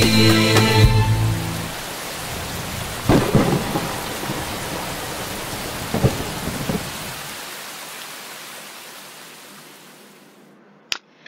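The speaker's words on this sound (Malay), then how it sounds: "Hujan tak berhenti." Steady rain hisses throughout while several thunder rumbles roll in, then the downpour slowly fades away toward the end.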